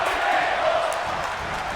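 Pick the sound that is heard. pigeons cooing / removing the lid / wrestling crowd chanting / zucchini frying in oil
wrestling crowd chanting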